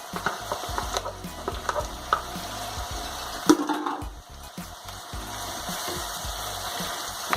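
Bell pepper and olives being stirred and sautéed in a pan, a steady close sizzle with repeated scraping strokes of a spoon, one louder clack midway.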